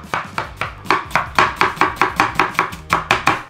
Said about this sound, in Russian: нарезаем лук на кубики.